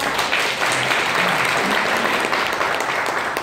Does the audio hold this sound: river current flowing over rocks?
no